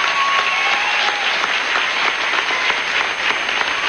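A studio audience applauds after a live country music performance on a 1997 televised country show, steady dense clapping filling the moment at close range with no talking over it.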